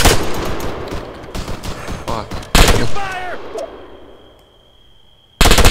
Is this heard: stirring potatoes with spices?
no